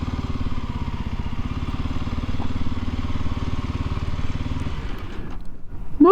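A motorcycle engine idles close by while pulling into a parking spot near a lake, a steady low putter that cuts out near the end.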